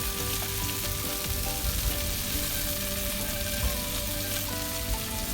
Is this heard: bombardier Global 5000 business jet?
no